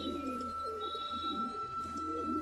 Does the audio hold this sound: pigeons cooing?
yes